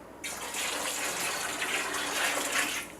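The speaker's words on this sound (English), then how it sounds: "So let's add back some more water." Water gushes steadily from a tap into a pressure canner holding beans, a continuous hissing pour lasting the whole stretch with no talk.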